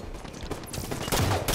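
Gunfire in an online multiplayer shooter match: a short burst of sharp shots and rattling bursts, loud and close, growing denser toward the end with no talk.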